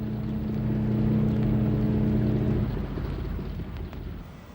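A 36,000-ton ocean liner setting sail from Liverpool, with a deep droning hum from its engines or horn that stops partway through, then rumbling wind and water noise, loud and steady.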